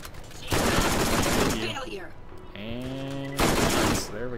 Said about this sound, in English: I do like this SMG a whole lot